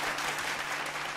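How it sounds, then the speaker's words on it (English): A short burst of group clapping after a festive dance class, steady and fairly close, with no talking. "Give your neighbors a round of applause"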